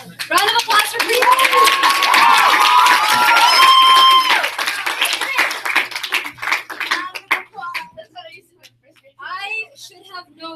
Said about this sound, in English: Round of applause for Priya.